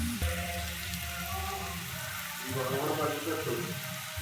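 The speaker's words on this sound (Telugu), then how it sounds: "దాని తర్వాత వంకాయ ముక్కలు కూడా ఫ్రై చేసుకున్నాను." Eggplant pieces frying in hot oil with cumin and salt, a steady close sizzle and crackle with faint stirring, with a brief voice heard underneath.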